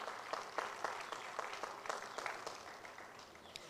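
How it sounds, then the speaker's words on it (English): Applause at a memorial celebration of a late college leader's life, sounding as scattered claps from a modest crowd, quiet and somewhat distant, with uneven sharp hits over a soft wash. "I think we need to applaud his work."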